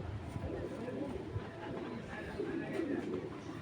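Pigeon cooing from a high-flying Giribaz tumbler pigeon, a pied (gora) bird among a loft collection, heard as low soft coos under steady background noise and talk nearby.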